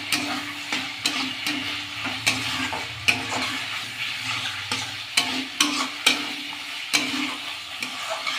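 Fried potato and pointed gourd pieces stirred into a frying curry, a continuous sizzle broken by regular sharp clinks of a spatula against the pan about once a second, close and alone.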